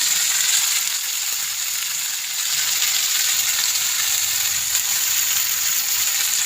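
Spice paste with turmeric and chili powder fries in a pan for a Bengali fish curry, giving a loud, steady sizzle that carries on without a break, heard alone.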